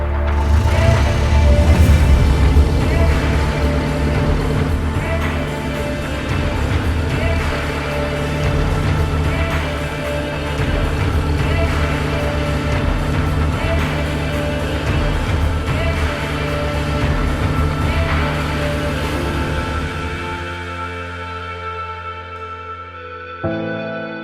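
A Bentley Blower Car Zero, a modern recreation of the vintage supercharged racing car, drives along closed roads, its engine note steady and strong throughout before it fades out at the end; no voices.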